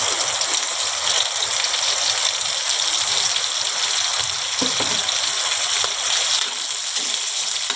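Fish and other ingredients for pancit bato sizzle in a pan with a loud, continuous crackling hiss close up, joined by a few faint stirring scrapes and no talking.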